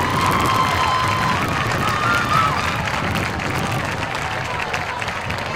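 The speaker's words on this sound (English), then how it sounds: "Let's have a nice round of applause for Erin Ragusis." A stadium crowd applauds and cheers for an inductee at a high school softball hall of fame ceremony during a football game, a steady, broad roar of clapping and shouts that fills the whole stretch, with some voices mixed in.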